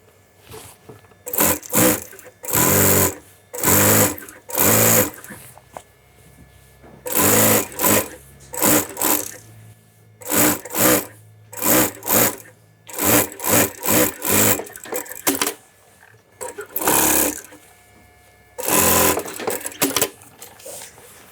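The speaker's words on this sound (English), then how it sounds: "I'll sew on a small stitch, top stitch at the back of the yoke" Industrial sewing machine top stitching the back yoke of a bespoke shirt in a London shirtmaking workshop, running in repeated short bursts separated by pauses, close and clear.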